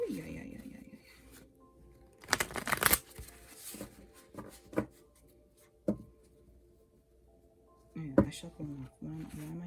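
Tarot cards are shuffled in several short bursts of close papery riffling, separated by quieter handling noises, with a person talking between the bursts.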